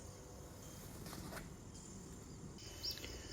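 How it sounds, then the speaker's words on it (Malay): Forest insects trill and chirp softly around a hillside longhouse village, with faint scattered birdsong and a brief sharper call near the end, all quiet and distant. "Suasana kampung yang sangat menenangkan dengan uh, bunyi kicauan-kicauan burung dan uh, bunyi daripada hidupan serangga hutan."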